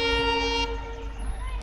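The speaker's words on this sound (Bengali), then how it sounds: "অনেক আস্তে আস্তে আসছে ট্রেনটা" The Kanchenjunga Express train sounds a loud sustained horn blast as it slowly approaches Aluabari station, after which a low rumble of the rolling train continues.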